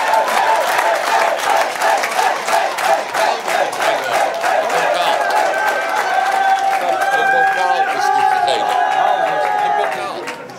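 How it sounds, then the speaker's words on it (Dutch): An audience gives loud, sustained applause for an award winner at a regional sports and business awards gala, with rhythmic clapping mixed with crowd noise and music rising through the latter half. "Jou een applaus, Havik CE"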